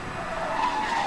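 Car in the Need for Speed Hot Pursuit racing game driving fast with tires skidding and squealing, a steady loud engine and tire roar held for about a second with no pause.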